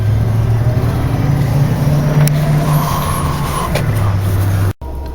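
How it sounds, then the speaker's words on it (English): Pickup truck towing a very long trailer passes close by, a loud, steady engine rumble and road noise sustained throughout, ending with a brief cut. "I can't believe it's being pulled by an actual truck, not like a tractor trailer or anything"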